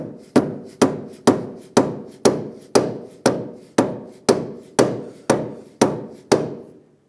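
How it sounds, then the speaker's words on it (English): A rubber mallet taps a rear wheel bearing into place on a 2003-2011 Honda Element, twelve evenly spaced, sharp knocks ringing close and loud, nothing else. "We can take a rubber mallet"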